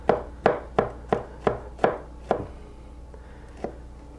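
A knife chops through an onion on a cutting board, giving six or seven crisp, evenly spaced close thuds, then a pause and one last cut, with no talking.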